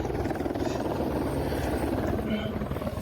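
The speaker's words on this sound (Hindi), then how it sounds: "ये सच में हेलीकॉप्टर बुला ली है।" Helicopter flying near Everest Base Camp, a steady loud rotor drone and engine buzz filling the whole stretch, with people talking over it.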